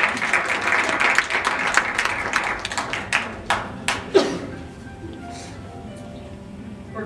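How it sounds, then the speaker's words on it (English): A small audience at a university poetry society event applauds for several seconds as performers come on stage, and the clapping thins out into a few scattered claps before dying away. "So please give them a round of applause as they come on stage."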